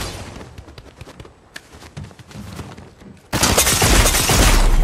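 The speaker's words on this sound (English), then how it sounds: "Oh, that's an SMG." SMG fire in a video game crackles in rapid, light shots at a moderate distance, then a sudden loud, wide blast of noise takes over and holds to the end.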